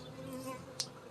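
Honeybees buzzing steadily at a hive during an inspection, with a frame moved to a smaller box; a dense, continuous hum from many bees close by, with one brief louder buzz as a bee passes near.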